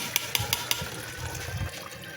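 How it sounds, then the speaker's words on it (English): Palm nut soup liquid running through a kitchen strainer: a continuous watery trickle and splash, close by, with a few sharp clicks near the start. "I'll get my strainer and strain it very well"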